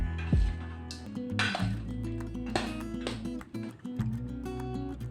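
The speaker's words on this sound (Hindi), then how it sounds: "इस तरह से तमाम कैरियाँ डाल के अच्छी तरह से मिक्स कर लें।" Raw green mango pieces tossed with spice masala for pickle, heard as close clinks, scrapes and wet squishes of a spoon against a metal bowl in an irregular rhythm, with no talking.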